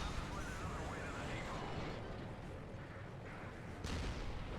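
Heavy tank cannon fire and explosions from the PS3 shooter Resistance: Fall of Man, a dense, continuous roar of booming blasts filling the whole stretch with no clear gaps.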